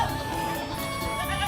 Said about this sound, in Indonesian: Suara kambing bersahutan, para pedagang saling berbincang, sementara calon pembeli memperhatikan satu persatu kambing yang ditawarkan.